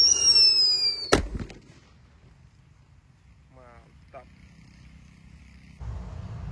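A blue Happy Power 3 firecracker bursts with one sharp, loud bang, followed by quiet wind and faint outdoor rustling.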